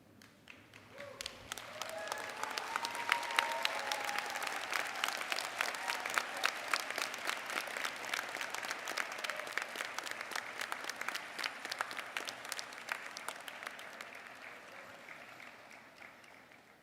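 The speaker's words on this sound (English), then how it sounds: "stand up and recognize with applause your people who got you here" Sustained applause from a large commencement audience of family and friends, a dense steady roar of clapping that swells in and holds for about fifteen seconds before easing off.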